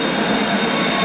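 Number 1 tram rolling through a city, a loud steady rumble of wheels on rails with a continuous mechanical hum and no voices, holding an even level throughout.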